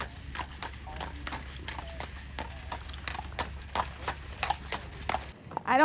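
Horse hooves clip-clopping at a steady walking rhythm as a horse pulls a tour carriage through historic Paducah, the regular clops fairly close and clear over a low steady rumble, ending abruptly.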